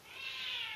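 A tomcat in a kitchen gives a single short meow, faint and somewhat distant, with nothing else audible.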